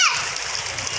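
Water splashes loudly as a child dives into a canal, with the splatter close and busy, and children's voices mixed in the background.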